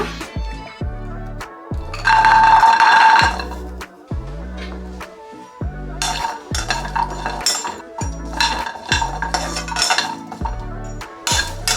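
Jackfruit seeds dry roasting in a pan, with steady rhythmic clinks and scrapes of a utensil against metal, close and fairly loud, with no one talking.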